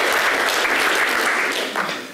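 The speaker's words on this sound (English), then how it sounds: "I think Rob needs a round of applause for that." A loud, dense round of applause from a gathered audience at a university welcome-back event, sustained and even before tapering slightly at the close.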